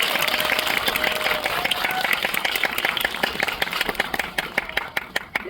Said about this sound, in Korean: 두 분 이렇게 동시에 입장하셨는데 박수 한번 부탁드리겠습니다.